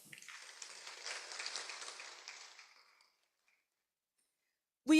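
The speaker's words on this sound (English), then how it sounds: "Please give round of applause." Round of applause from an audience in Koinonia Auditorium at a university symposium, steady broadband clapping for about three seconds that fades out into silence.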